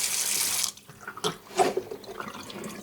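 Boiled menudo liquid being drained into a kitchen sink: a steady rush of pouring water at first, then scattered splashes and drips against the basin.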